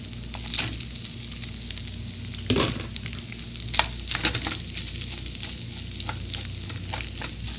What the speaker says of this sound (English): you're going to turn on the temperature just a little bit, and you're going to throw in your rice